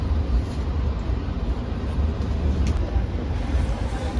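Inside a New Generation stainless steel economy-class passenger train at night, a continuous low rumbling roar of the moving carriage with a steady hiss, no clear speech.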